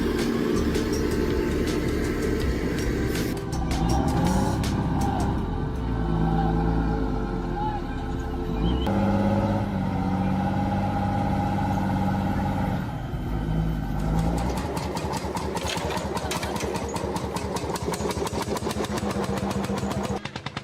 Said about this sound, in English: Amid thunderous roars, the powerful tractor unleashes its full force, its wheels digging deep into the earth.